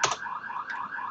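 A car alarm outside, reportedly malfunctioning, sounds as a steady warbling electronic tone with a sharp onset, heard on its own without talk.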